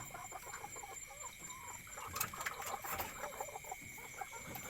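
Laying hens of traditional foreign breeds cluck softly in the background, a scattered run of short calls over faint steady hum, with a slightly busier burst midway.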